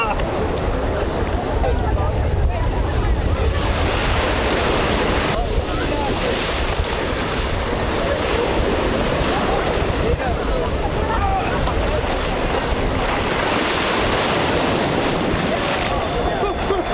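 Waves washing onto a Gulf of America beach at Grayton Beach, a loud continuous surf roar mixed with heavy wind buffeting the microphone, with voices occasionally breaking in.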